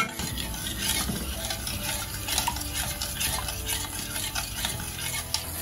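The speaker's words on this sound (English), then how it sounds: "We are going to stir until the rice is well dissolved." A spoon stirs homemade baby rice cereal in a pot over medium heat, making a steady, continuous scraping and swishing that runs the whole time, close and fairly loud.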